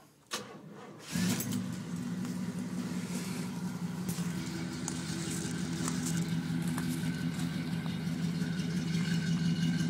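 A 1971 Oldsmobile Cutlass with a Flowmaster exhaust cranks briefly, fires up and settles into a steady, deep, rumbling idle, heard close with no talking.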